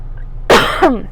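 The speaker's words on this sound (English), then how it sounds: "I'm going to cough real quick." A single sharp cough, close and loud, followed by a brief rasping throat sound, over a quiet background.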